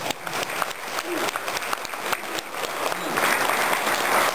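Audience applause at a Korean clan association gathering, a crowd clapping steadily that grows slightly louder and denser toward the end.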